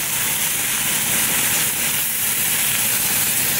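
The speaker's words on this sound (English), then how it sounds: "You'll see we are getting some nice sear on there." Chicken or pork searing in a hot pan, giving a loud, even, continuous hiss of sizzling fat with no pauses and no voices.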